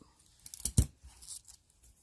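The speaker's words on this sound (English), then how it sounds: "I'm just going to cut around it so I know exactly where it is here." Scissors snip around a sublimation transfer sheet, two quick close cuts with a soft paper rustle, quiet and brief with no talking.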